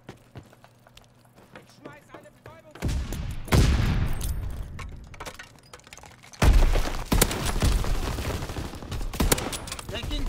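Loud automatic gunfire from Call of Duty WWII erupts after a quieter opening, with rapid bursts and heavy close shots hammering on, while voices speak beneath the noise.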